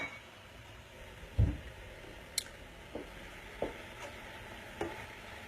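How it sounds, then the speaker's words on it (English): Shrimp sizzle softly in a pan over high heat with a steady low hiss, broken by a few sharp taps and clinks of a utensil stirring. "our shrimp are trying to sizzle over there"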